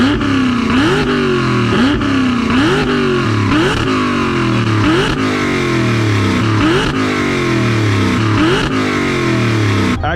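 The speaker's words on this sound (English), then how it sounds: "he revved that so loud" A loud supercharged Terminator Cobra engine in a Fox Body Mustang notchback revs repeatedly in rising, falling surges, close and continuous for the whole stretch with no voices.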